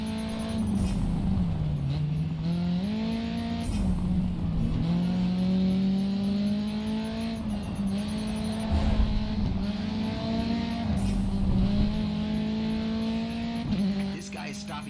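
Racing three-cylinder car engine in the Grid 2 video game, a steady buzzing drone that rises and drops through repeated gear shifts, loud and continuous, with a voice talking over it.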